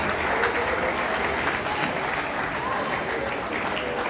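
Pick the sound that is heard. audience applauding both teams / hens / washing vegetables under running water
audience applauding both teams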